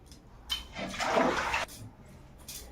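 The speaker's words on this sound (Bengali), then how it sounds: "এবার কড়াটা মাজবো।" A wok being scrubbed with running water in a home kitchen, giving a splashing, rushing wash that swells in the middle, with short scraping bursts before and after.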